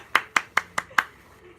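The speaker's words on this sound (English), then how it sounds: "Could everyone just give a round of applause to Jen for being here?" Five sharp, evenly spaced hand claps ring out close by, like a short burst of applause at a gathering, then fall quiet.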